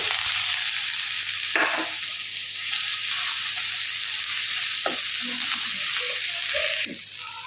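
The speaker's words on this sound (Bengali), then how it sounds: "এখানে আমি পেঁয়াজ কুচোনো, লঙ্কা কুচোনো, তেজপাতা ফোড়ন আর হচ্ছে টমেটো কুচোনো এখানে এর মধ্যে আমি দিয়ে দিচ্ছি।" Chopped onion, chili, bay leaf and tomato frying in a tempering for a pumpkin-leaf bharta, giving a steady close sizzle with a few stirring scrapes, fading slightly near the end.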